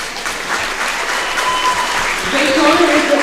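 A crowd at a Burke Cougars school event applauds and cheers, steady clapping that swells toward the end while an announcer speaks over it.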